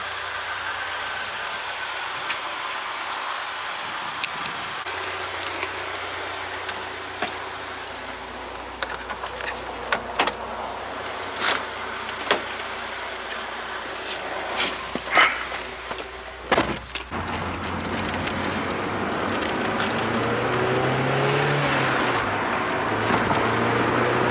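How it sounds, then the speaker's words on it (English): Honda S2000 with newly installed Spoon big brakes on a test drive, heard from inside: a steady engine hum with road noise, occasional clunks and knocks, and the engine note rising toward the end. "right now all that's left to do is we will go on a little test drive, make sure the brakes stop good"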